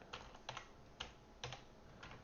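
Quick, quiet keystrokes on a computer keyboard, about half a dozen light clicks in an uneven rhythm, close and alone against a faint background.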